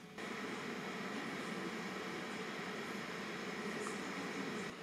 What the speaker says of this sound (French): Le ventilateur est moins bruyant que sur le Monsieur Cuisine Plus.